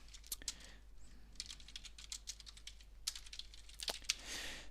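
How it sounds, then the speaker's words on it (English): Close, fast keyboard typing on a computer keyboard, coming in irregular bursts of clicky keystrokes with short pauses between them and no talking over it. "let me just type a thing."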